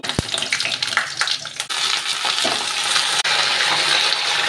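Loud sizzling bursts up as mixed vegetables hit hot oil tempered with dried red chillies, bay leaf and five-spice, with a few clanks and stirring noises, then a steady, close frying hiss continues.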